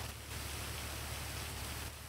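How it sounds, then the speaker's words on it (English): Steady rain falls, a constant hiss of drops with a low background hum. No one is talking. "And then it started raining."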